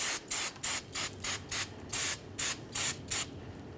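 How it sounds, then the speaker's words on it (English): Parts cleaner sprayed from an aerosol can onto the rear brake of a 1994-2001 Dodge Ram 1500: eleven short, loud, close hissing bursts in a fairly steady rhythm, with no voices. "we'll just use some parts cleaner directly on this area"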